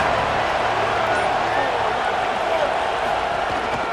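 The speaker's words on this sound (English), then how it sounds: "This crowd trying to make life miserable for this offense." Stadium crowd noise from EA Sports College Football 27 forms a dense, steady roar that fills the whole stretch without a break.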